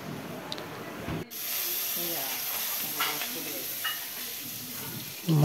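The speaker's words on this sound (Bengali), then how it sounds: "মা কই মাছ, ট্যাংরা মাছ এসব ভাজছে।" Koi and tangra fish fry in hot oil with a continuous close sizzling hiss and occasional crackles, steady throughout with a brief dip early on.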